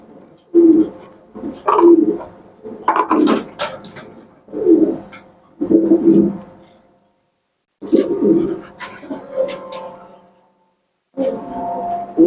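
Pigeons in a loft coo in repeated soft throaty phrases, close and clear, with short pauses between bouts and faint flutters.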